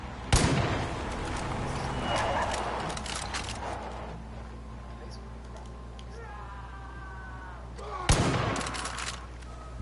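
Gunfire in the video game Far Cry 5, with sharp broadband shots near the start and a loud burst around the eighth second over a steady low rumble, with a voice talking throughout.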